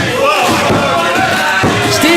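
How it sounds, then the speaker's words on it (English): A wrestling crowd cheers at an NJCW Championship Tournament bout between Pine Baron and Steve Farley, a loud, steady roar of voices that fills the whole moment, with a few shouts rising above it. "Crowd trying to cheer on their favorite here as well"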